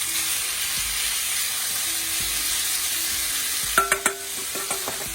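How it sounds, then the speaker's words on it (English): Basa white fish fillets fry in a pan with a steady hissing sizzle, joined near the end by several sharp clinks and taps of a utensil against the pan, for an Indian-style fish curry. "So we're going to start off with frying the white fish."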